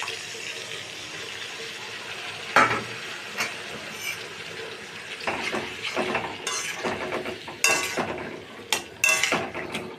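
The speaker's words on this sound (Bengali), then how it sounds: "এবারে আদা টমেটো বাটা দিয়ে দিচ্ছি।" Ginger and tomato paste goes into a pan with a wet splat, then scraping and clattering of a spoon against metal follows, with intermittent sizzling and clinks growing busier toward the end.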